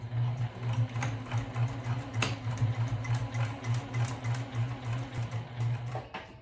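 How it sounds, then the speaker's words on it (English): A sewing machine stitching fabric for a homemade lunch bag, a fast steady mechanical whirr with regular pulsing rhythm, close and continuous, with no talk. "So let's go to the sewing machine."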